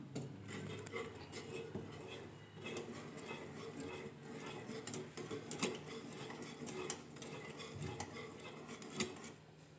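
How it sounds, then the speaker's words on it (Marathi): Jowar papad batter stirred continuously in a pot over a full gas flame, giving quiet, irregular metallic scrapes and taps of a utensil against the pot over a low burner hiss, with no talk. "गॅस फुल ठेवायचा आणि आता हे असंच हलवत राहायचं आणि गुठळ्या होऊ नयेत म्हणून"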